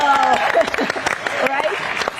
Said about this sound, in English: I think we can clap to that